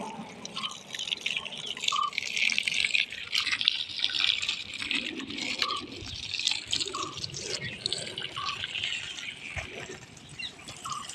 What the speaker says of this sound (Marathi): आता तिकडूनचा बंद केला म्हणून इकडे चांगला जास्त पाणी जोरात आला आहे